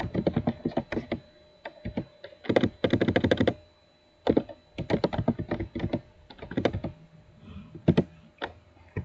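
Computer keyboard keys clatter in quick bursts of clustered keystrokes separated by brief pauses, close and fairly loud, while a default router setting is entered during a network topology simulation.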